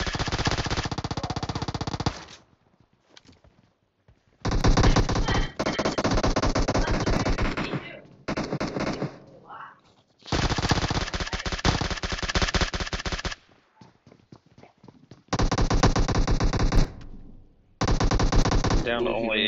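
Rapid automatic gunfire from a weapon in the mobile battle royale game PUBG Mobile comes in several long, loud bursts separated by short pauses.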